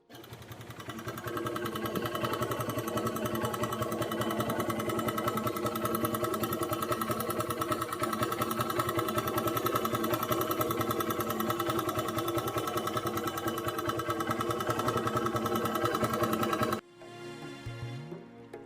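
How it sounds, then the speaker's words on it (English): A 2009 Bajaj BS2 motorcycle engine runs on E20 petrol with a steady, rapid mechanical knock clattering over its idle, close and continuous, before the engine note abruptly changes near the end. "Listen to this knocking sound"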